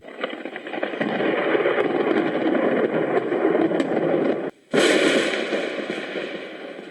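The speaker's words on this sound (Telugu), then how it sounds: "ఉరుములు మెరుపుల్ని తెప్పించింది." A thunder sound effect from a Telugu radio drama serial: a loud, continuous rumbling crackle for about seven seconds, cut by a brief silent gap, then a fresh loud burst that slowly fades, with no voices.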